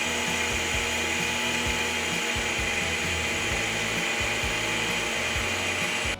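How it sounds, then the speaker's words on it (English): A grinder turns dried garden chili peppers into powder, producing a loud, continuous mechanical whir with a rapid rattling chatter from start to finish before cutting off abruptly. "See how nice that's grinding up."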